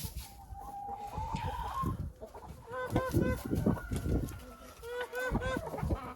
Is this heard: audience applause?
no